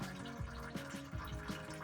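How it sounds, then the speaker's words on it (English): Fluid drains from the NVG226 transfer case of a 2002 Envoy/Trailblazer with 200,000 miles, a faint run of small irregular drips and trickles patters at close range, quiet and without talk. "we're gonna let that drip for a while"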